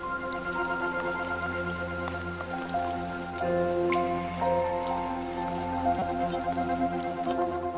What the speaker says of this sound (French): les oiseaux-mouches adorent la pluie et ne perdent jamais une occasion de prendre une bonne douche